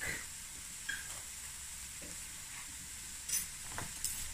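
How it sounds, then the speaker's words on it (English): Freshly chopped garlic dropped into a hot pan for a Cape Malay sugar bean bredie, giving a steady low sizzle with a few brief stirring scrapes, fairly close and moderately quiet, with no voices. "now I'm going to add some garlic, freshly chopped garlic"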